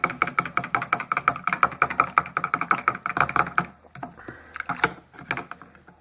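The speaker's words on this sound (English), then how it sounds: "Then stir it around" While kvass is made, yeast is stirred into sugar water in a bowl, producing a quick, regular run of light clicking taps close by that slows and thins out toward the end.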